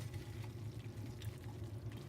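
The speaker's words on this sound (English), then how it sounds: "So let's drain the shrimp." Water from boiled shrimp pours out steadily while draining, a faint, continuous splashing trickle with no voices.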